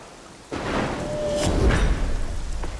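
Rain sets in after a short quiet start, a steady broadband wash with a few louder bursts and low rumbles.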